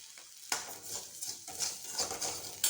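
Rock salt roasts in a pan while being stirred, making a dry, gritty rattle with repeated sharp scraping strokes at close range.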